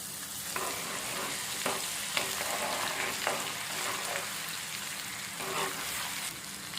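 Crushed garlic sizzles in hot peanut oil with dried red chillies and seasoning seeds, a dense continuous frying hiss up close, broken by light stirring clicks.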